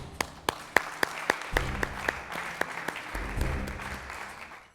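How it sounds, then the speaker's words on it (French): Applause from a small crowd, with sharp individual claps at first that blend into a steady patter of clapping. "Et j'ai une envie, c'est de vous applaudir"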